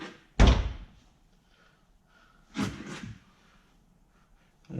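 A Camaro car door being shut, with one heavy slam followed after a pause by a second, lighter double thunk as it fails to latch, close and loud in a quiet space.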